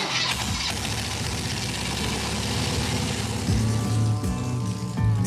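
A restored motorcycle engine cranks and fires up for the first time in Abidjan, settling into a steady, close, rumbling idle with a slight surge toward the end.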